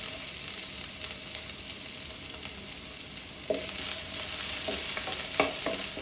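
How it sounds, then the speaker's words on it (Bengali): Onions fry in oil until reddish, hissing in a constant sizzle with a few clinking spatula stirs against the pan in the last seconds. "পেঁয়াজটাকে একটু লাল লাল করে ভেজে নেব।"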